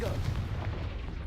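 A Confringo fire spell blast in the video game Hogwarts Legacy, a loud, dense booming burst with heavy low rumble sustained across the short moment.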